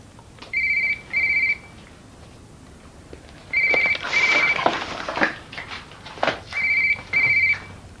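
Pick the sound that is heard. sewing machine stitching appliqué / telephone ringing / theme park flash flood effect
telephone ringing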